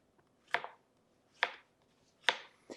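A knife chopping a yellow gooseneck squash on a cutting board, three crisp distinct thuds at an even, unhurried pace with a lighter fourth cut at the end, close and clear with no talk.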